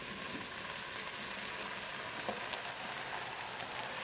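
Ground meat hitting a hot Instant Pot insert after the onions and garlic for low-carb keto chili, giving a steady close sizzle with faint stirring scrapes and no talk.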